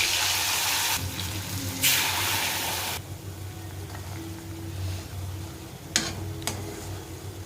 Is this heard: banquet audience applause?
no